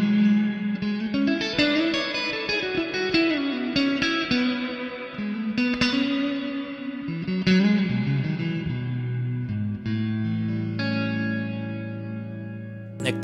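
An S-style custom electric guitar plays through a Supernatural effects unit on its plate reverb setting: slightly overdriven chords and single notes ring out, sustained and washed in a spacious, shimmering reverb tail.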